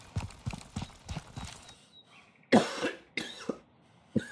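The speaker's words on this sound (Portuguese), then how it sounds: "porque a tosse não passa nem por nada" A few harsh coughs and throat-clearing bursts from a person with a lingering cough come after a stretch of rhythmic clopping, loud and close, with short gaps between them.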